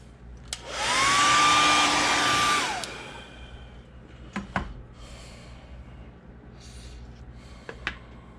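A hair dryer whirs loudly for about two seconds while drying paint on a custom crawfish fishing lure, then shuts off, followed by a few handling clicks and soft breaths nearby.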